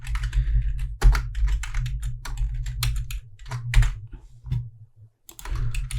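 Rapid clicks of someone typing on a computer keyboard while entering code in an HTML form lesson, a steady patter of close keystrokes broken by short pauses, over a low steady hum.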